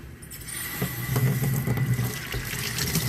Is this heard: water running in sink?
yes